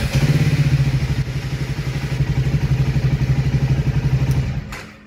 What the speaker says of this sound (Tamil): இப்போ பாருங்களேன், ஃபஸ்ட்டு இதிலே ஸ்டார்ட் ஆகிடுச்சு.